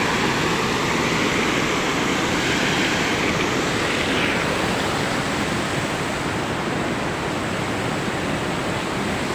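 Water rushes over a mini dam under a bridge, a loud, constant roar of falling water that fills the whole scene from nearby without letup.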